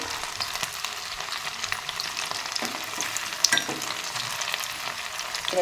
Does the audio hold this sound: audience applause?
no